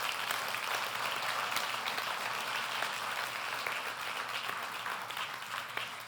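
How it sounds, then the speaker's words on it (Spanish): A church congregation gives a hearty round of applause, dense continuous clapping with crisp individual claps, fairly distant and steady before easing slightly at the end. "Si le van a dar un aplauso al Señor,"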